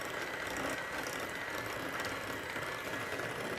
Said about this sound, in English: I like to use the hand mixer to kind of cream it all together